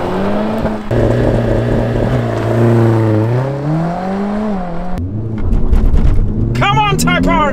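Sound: Honda Civic Type R accelerating in a drag race

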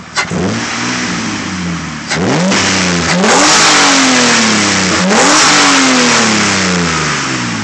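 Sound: 2003 Mitsubishi Eclipse GT engine revving

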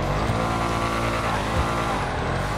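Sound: Lamborghini Huracan V10 engine revving in video game GTA 5

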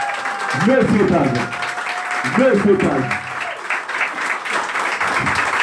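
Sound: audience applause

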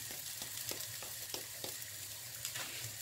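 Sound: rice frying in a pan

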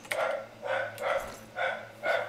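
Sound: dog barking

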